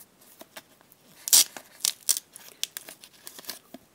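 A Topps Champions League 2015-16 sticker packet being torn open up close, with sharp crinkling and tearing bursts of foil wrapper followed by lighter rustling.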